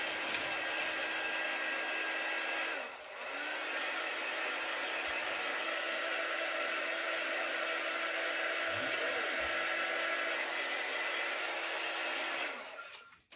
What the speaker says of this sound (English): And dryer.